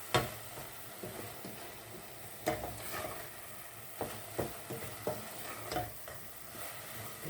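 Coconut and sugar cooking down in a pan for coconut rolls, a soft sizzle under a run of irregular spoon-scraping strokes, close and fairly quiet.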